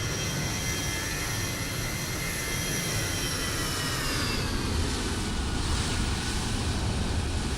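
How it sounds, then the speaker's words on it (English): A Boeing 787-9 airliner in a flight simulator roars steadily as its jet engines spool up for takeoff, a continuous loud broadband rumble with a rising whine that holds throughout, with no talk over it. "There's another plane there about to take off"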